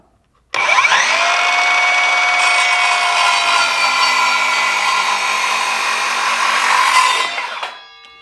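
A circular saw rips straight through a sheet-goods panel, its loud, steady whine and rasping blade noise holding evenly for about six seconds before spinning down, with no talking.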